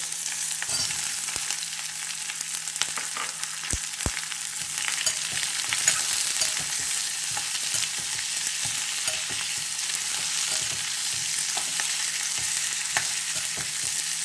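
Capsicum fries in a pan with a strong, steady hiss that runs throughout, while frequent spatula scrapes and a couple of sharp knocks against the pan mark the stirring.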